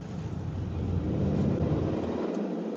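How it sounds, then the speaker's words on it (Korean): A hybrid car's engine kicks in as the vehicle pulls away in city traffic, humming and swelling, a low steady drone building slightly before easing off. "출발하자마자 엔진이 개입을 하네요."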